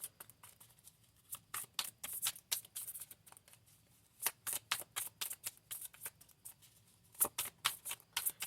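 A deck of thin tarot cards being shuffled close to the mic, with quick flurries of soft flicking riffles in repeated bursts, separated by brief pauses, fairly quiet overall and without any talking.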